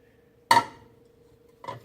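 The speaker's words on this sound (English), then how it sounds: "I'm going to take the whisk and I'm going to whisk through it for a little bit" A whisk clanks against a bowl of pumpkin soap mixture, two sharp metallic clinks, the first louder and ringing briefly, the second softer about a second later, over a faint steady hum.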